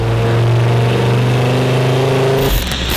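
On a dyno, a heavily modified Ford Focus ST MK2 making over 600 kW holds a loud, steady, close-up engine roar during a pull, then the tone shifts abruptly near the end.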